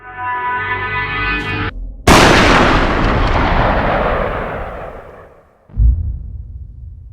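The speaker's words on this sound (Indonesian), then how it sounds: "sebelum Tamashiro bisa menembak lagi, Tamashiro ditembak lagi di kepalanya oleh Joji yang datang terlambat sepersekian detik" A single loud gunshot in the video game Yakuza 3 booms and rings out in a long fading echo, with tense music playing before and after it.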